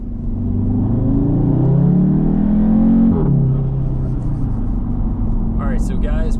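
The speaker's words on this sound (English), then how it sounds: "Get some nice induction noise with that open air intake." An Audi TTS fitted with a new open air intake accelerates, its engine revving up with a rising induction roar and then dropping back after a shift, heard from inside the car.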